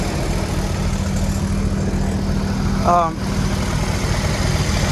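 The 1978 Honda Civic's original CVCC engine, fitted with a changed carburetor, runs at a steady idle close by, with a brief voice-like sound near the middle.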